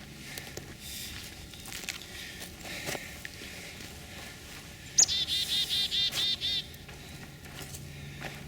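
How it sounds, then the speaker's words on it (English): Birds singing outdoors at a hunting camp in spring, a fairly close bird trilling a rapid run of repeated notes amid scattered chirps and soft insect-like hiss. "I'm listening to the birds."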